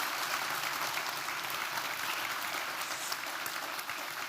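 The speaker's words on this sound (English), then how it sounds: "Give a big applause." Audience at an evening public lecture forum on astronomy applauding, a steady sustained wash of clapping at moderate level throughout.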